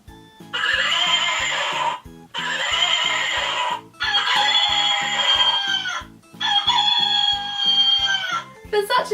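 Tiny toy farmyard sound buttons play four loud electronic animal calls in turn, a horse whinny and chicken and rooster noises, each lasting about two seconds with short silent gaps between, over a steady background ticking.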